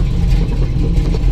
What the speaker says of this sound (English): Probably need to rev it up a little more.